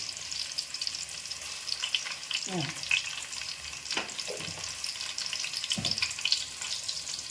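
Cumin seeds frying in oil, a steady quiet sizzle with a few soft stirring scrapes, close but low in level.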